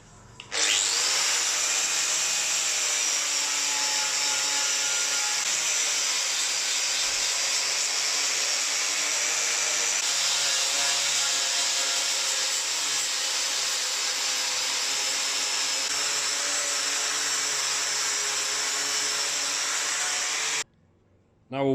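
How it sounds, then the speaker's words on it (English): A wire wheel grinds rust off a Land Rover bulkhead in one loud, steady, continuous whine that holds for about twenty seconds before cutting off. "let's get the wire wheel out and see what we've got"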